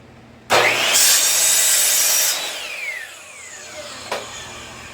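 A power saw bites into wood, cutting thin slices, with a loud burst, cutting for a couple of seconds before the blade spins down, followed by a short sharp knock.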